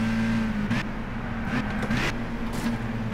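A Lotus Elise engine revs and drones steadily in a Gran Turismo 6 one-make race, a continuous buzzing note with small pitch shifts as the throttle changes, loud and close throughout.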